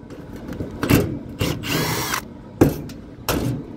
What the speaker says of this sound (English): So I've already started removing these 5/16 screws.